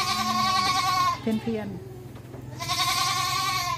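A dwarf goat kid on a farm in Phuket gives two loud, wavering bleats close by, one at the start and one at the end, with someone speaking briefly between them.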